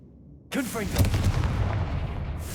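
A Confringo spell blast in Hogwarts Legacy bursts in after a moment of silence, a loud fiery boom with a swooping whoosh at its start that trails into a sustained crackling rumble.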